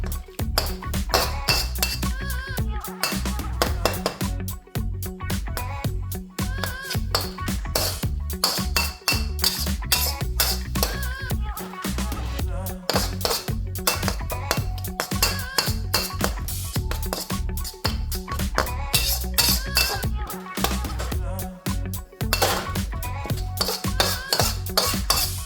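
Phad Thai is stirred in a pan in street-style fashion, with constant clinking and scraping of utensil against metal in a busy, repetitive rhythm over a low background sizzle.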